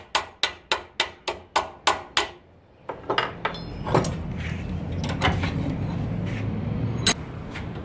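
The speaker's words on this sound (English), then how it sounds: "I'm hitting the first thing that I come to with a hammer" About nine sharp, ringing hammer blows strike metal being forged, landing in a steady rhythm, then a pause, followed by scattered clanks and knocks over a rumbling background.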